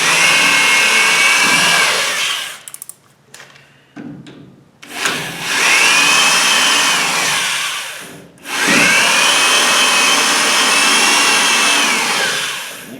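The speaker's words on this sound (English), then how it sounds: "then I start with the 1/8 drill" A power drill with a 1/8-inch bit whines loudly in long runs, briefly stopping and restarting between bursts, close up with no voices, while working on an MG Midget car.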